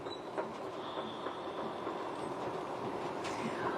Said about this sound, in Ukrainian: А ми з Євгеном Плінським сьогодні вирушили на центральний залізничний вокзал Києва провести спеціальний ефір до дня залізничника.